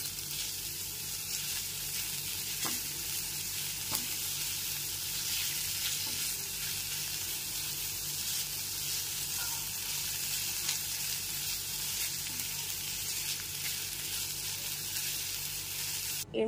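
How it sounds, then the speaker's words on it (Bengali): Chopped ginger fries gently in a pan with a steady, soft sizzle and hiss, an occasional faint clink of stirring breaking through, no voices. "আদা কুচিটাকে এখানে হালকা করেই ভেজে নেব।"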